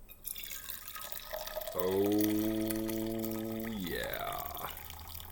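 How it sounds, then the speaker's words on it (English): Liquid is poured into a cup in one continuous pour, its ringing tone climbing steadily in pitch as the cup fills. The sound is close and clear, and a person makes a short exclamation near the start. "Just gonna pour the liquid gold here as we're logging in."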